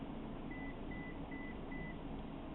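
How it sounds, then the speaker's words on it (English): Four short, even electronic beeps repeat at a regular pace, faint and thin over a low steady hum of background noise, with no voices. "Text message."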